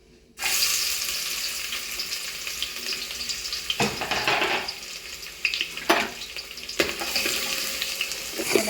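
Finely chopped onion frying in a ladleful of hot oil for a dry village-style chicken dish, a steady close sizzle with scraping stirs and clatter breaking through at intervals, no voices.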